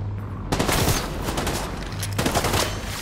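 Rapid automatic gunfire in The Division 2, two loud close bursts of dense shots separated by a brief lull.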